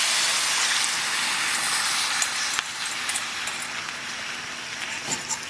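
Sauce hitting a hot pan of beef stir fry with orange and ginger sauce, a steady loud hiss like rain that eases slightly partway through and continues as a broad sizzle without speech.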